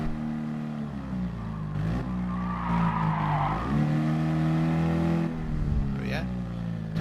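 A Fiat 500 brakes hard into a corner at Circuit de la Sarthe, Le Mans, in GT Sport, its engine note dropping and rising with tire squeal and skidding, while someone talks over it.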